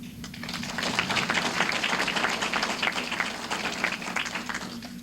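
Attendees at a corporate meeting held at the World Trade Club break into applause. The crisp, close clapping swells after a quieter start, then stays lively and fairly loud with a scattered rhythm of individual claps.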